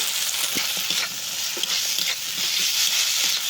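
Fried crabs are stirred in a pan of thick spiced crab gravy, sizzling and hissing steadily close by, with the scrape of a spatula against the pan repeating at irregular intervals.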